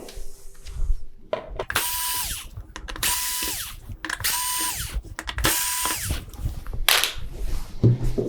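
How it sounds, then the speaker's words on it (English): Screws being backed out of a Samsung UN46D6900WF flat-screen TV with a power driver, several short whirring bursts of a couple of seconds each separated by pauses and small clicks, close and fairly loud. "let's get to work on getting these screws out."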